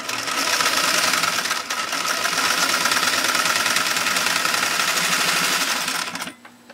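A Singer 403 sewing machine stitches through eight layers of heavy-grade denim, its motor running steadily and loudly with a fast needle rhythm for about six seconds before stopping abruptly.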